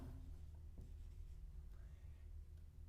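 Pen writing on a paper real estate sales contract, a soft continuous scratching that sits close under a steady low hum, with faint murmuring speech in the background.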